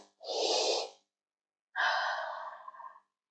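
Someone draws a deep breath in through the nose, pauses, then lets out a long, audible exhale, both close and clear with silence between.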